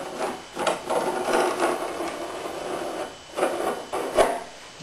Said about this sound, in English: Now take your putty knife and just kind of windrow it back.